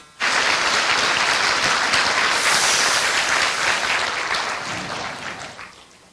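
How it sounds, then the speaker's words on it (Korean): An audience at a leadership seminar bursts into sustained applause that starts abruptly, holds steady and loud, then slowly thins out toward the end. "자신을 위해서 박수 한번 부탁드립니다."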